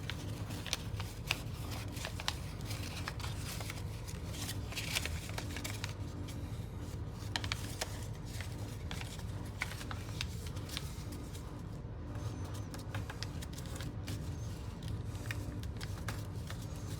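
Stiff paper being folded and creased for a Firebrand paper model, giving a steady, continuous rustle and crinkle close by with small scraping bursts throughout, no voices.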